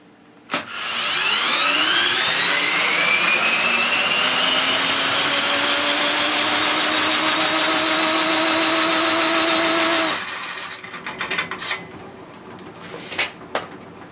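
A power tool motor spinning up on an inertial dyno, driven by an old, roughly ten-year-old large Ryobi battery: a loud rising whine that climbs in pitch and holds steady for about ten seconds, then cuts off, followed by clicks and handling knocks.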